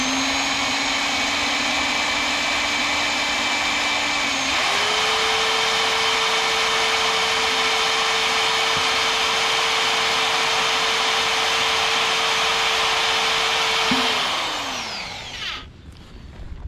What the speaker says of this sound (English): he's going to use the larger drill bit.